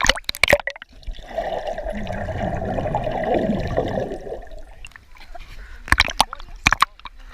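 Water splashes and pours steadily onto people standing beneath it at Calambrut cove in Menorca, a continuous nearby rush lasting several seconds, framed by short bursts of sound before and after.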